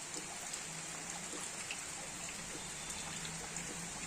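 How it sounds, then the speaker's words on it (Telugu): Steady rain falling outside a house in the morning, a soft continuous hiss of drops with light patter, moderately faint and unbroken, with no voices. "చూడండి, వర్షం పడుతుంది."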